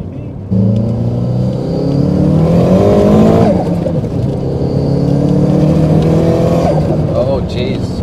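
Alfa Romeo GTV with a 440 bhp engine originally from a Fiat Coupe, revving hard and loud from inside the car, its tone rising through several surges before settling back to a steady drone.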